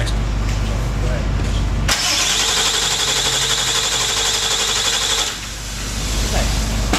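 A diesel engine's starter cranks and the engine turns over, a loud, steady rumbling roar that begins abruptly and holds for several seconds before dropping off, with a brief rise again near the end.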